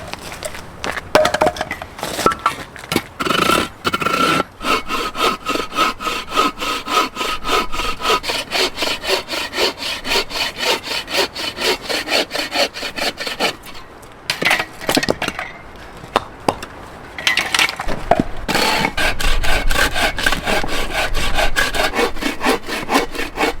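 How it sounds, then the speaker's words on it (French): Wooden logs for a small stove are hand-sawn in a long run of steady, rhythmic back-and-forth strokes, close and clear, with brief pauses and a few cracks between passes. "Je pense qu'on va aller couper ces bûches-là."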